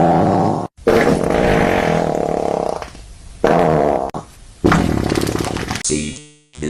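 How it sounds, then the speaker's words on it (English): A farting sound effect: a series of loud, close, raspy blasts broken by short silences, several bursts of varying length ending in a sputtering trail-off. "See, this is how the farting sound effect sounds."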